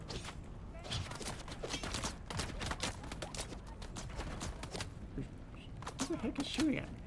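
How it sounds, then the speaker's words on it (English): Gunfire in the video game Dune Awakening comes as a rapid series of sharp shots and thuds spread throughout, with a person talking over the game action. "Who the heck is shooting at me?"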